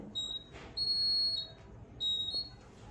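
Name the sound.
homemade laser security alarm beeping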